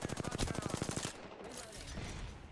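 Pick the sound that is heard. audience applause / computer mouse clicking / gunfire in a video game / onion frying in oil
gunfire in a video game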